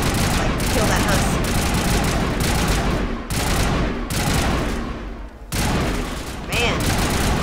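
Sustained bursts of rapid gunfire in the video game Mass Effect Legendary Edition as a husk is shot on Eden Prime, loud and dense, broken by a few brief pauses, with a voice speaking over it.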